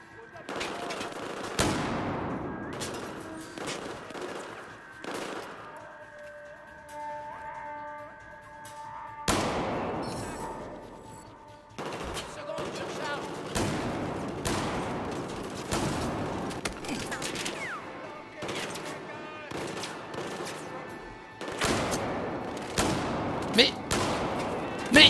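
Gunfire in the shooter game Battlefield 4, in a prison-break level: repeated bursts of close weapon fire come in clusters with short quiet gaps, loud and punchy throughout.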